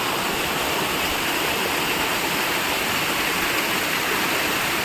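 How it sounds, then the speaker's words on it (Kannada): Apsarakonda waterfall near Idagunji roars as a steady, dense wash of falling water, loud and continuous throughout with no voices. "ಅಪ್ಸರಗೊಂಡ ವಾಟರ್ ಫಾಲ್ಸ್."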